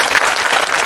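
Applause for a primary school pupil at a school flag-raising ceremony, a brief, dense burst of clapping from a gathered crowd, steady and loud throughout.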